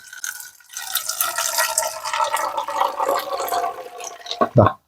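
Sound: pouring strained herbal pesticide solution into sprayer

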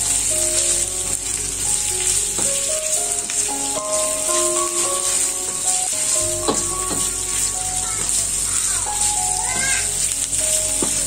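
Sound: chicken liver and gizzard frying in a pan

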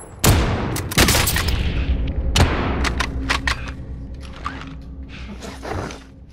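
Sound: incoming rounds exploding in a video game

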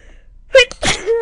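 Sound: sneeze

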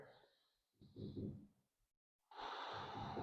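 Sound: breathing during yoga balance pose

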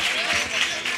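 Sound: audience applause at a carnival comparsa show

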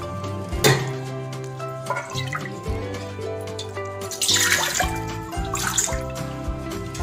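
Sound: water poured into a thick-bottomed pot for sago

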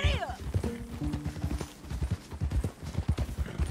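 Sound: horse galloping, hoofbeats in Red Dead Redemption 2 video game

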